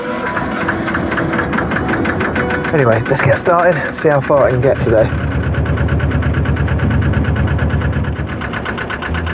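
Air-cooled canal boat engine running at a steady idle, a continuous rhythmic throb close by, with someone talking over it.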